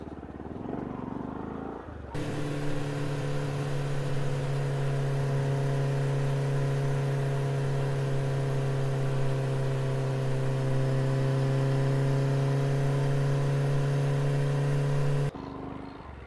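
A motorbike engine starts up and runs at a steady, droning idle for about thirteen seconds, loud and near, before cutting off abruptly.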